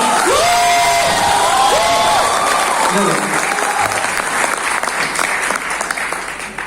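At a Vestige marketing motivational seminar, an audience erupts in loud applause mixed with cheers and whoops, the clapping dense and continuous before tapering slightly at the end.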